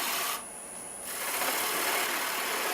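A spinning piece of wood on a lathe is cut down with a spindle gouge, giving a close, steady hissing scrape that dips briefly then resumes.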